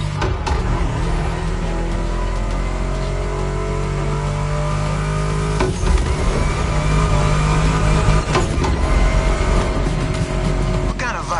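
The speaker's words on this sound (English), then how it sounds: "Meshes well with the sound of the engines" A loud, close video-game muscle-car engine, a Mustang GT in The Crew Motorfest, roars and revs continuously, with a deep rumbling tone that surges briefly partway through; no talking.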